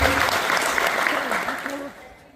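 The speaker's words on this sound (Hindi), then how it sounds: "मैम के लिए ताली बजाओ।" Audience applause for a female teacher at a training session in Jaipur, a dense continuous clapping that fills the room and tapers off near the end, with a voice speaking over it.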